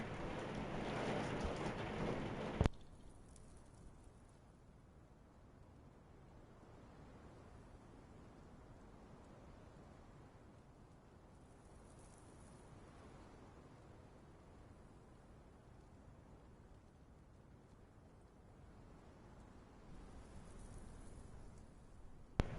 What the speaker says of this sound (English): We're currently getting hammered hard with a downpour